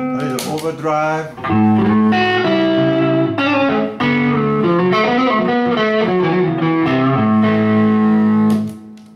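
Electric guitar played through a Marshall Astoria amp with a little overdrive, loud and close, with sustained chords and melodic runs carrying a mild grit over about nine seconds.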